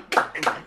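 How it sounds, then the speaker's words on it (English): A few people clap in a studio: two quick, close bursts of handclaps, each fading fast, with a voice speaking briefly between them. "clap. That's our audience."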